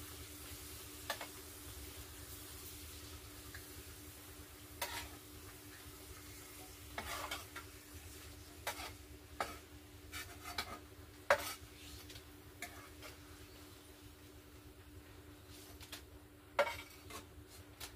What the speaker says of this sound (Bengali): আমি এক এক করে পাঁপড়গুলো ভেজে নিচ্ছি